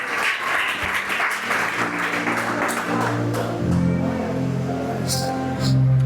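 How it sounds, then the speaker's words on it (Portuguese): A church congregation breaks into loud applause, a dense wash of clapping that carries on while organ-like tones and voices rise beneath it toward the end. "dê um forte aplauso ao Senhor em esta palavra"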